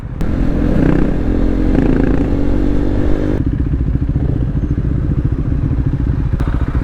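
KTM 690 Duke R single-cylinder motorcycle with an Akrapovic full exhaust system, revving loudly and close, a throbbing engine note that steps down partway through and keeps running steadily.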